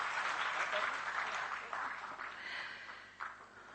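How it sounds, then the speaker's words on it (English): An audience at a lecture event gives a round of applause, broad crowd clapping that gradually thins and fades, with a brief louder burst near the end. "Can we have another round of applause with a little bit more energy?"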